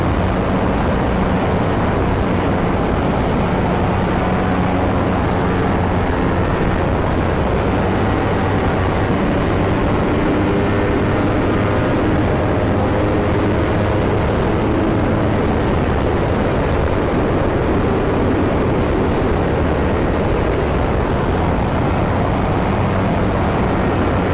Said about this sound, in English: That was strong throttle addition right there while adding lean angle.